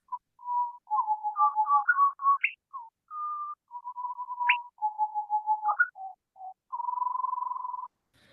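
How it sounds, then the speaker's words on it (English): Male and female rufous-and-white wrens singing an overlapping duet of clear whistled notes, trills and sharp upslurs in quick alternation, ending in a steady buzzy trill, clean with no background noise. "First, the rufous and white wren that has been studied pretty extensively by a research group in Canada"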